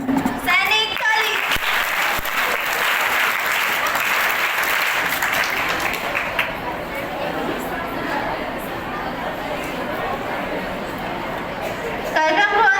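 Steady applause fills a school Dussehra celebration, with a crowd clapping loudly and continuously for about twelve seconds, chatter and children's voices mixed underneath.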